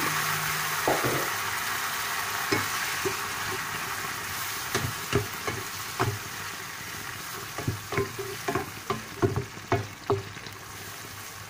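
Blended green bird's eye chili paste with belacan fries in hot oil for a prawn sambal tumis, giving a steady close sizzle broken by irregular clacks and scrapes of stirring that grow busier toward the end, with no talking.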